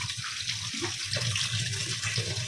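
Water runs steadily from a tap over fish being washed, a continuous close splashing rush with no voices.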